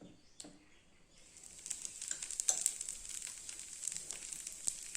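Drumstick leaf dosa batter cooks on a hot pan, giving a soft crackling sizzle that builds after a quiet start into quick, close pops and hissing bubbles.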